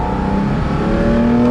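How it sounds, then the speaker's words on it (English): A car accelerating as the gas pedal is pressed, its engine note holding steady then rising in pitch, loud and close with no talk. "Start leaning on that gas pedal."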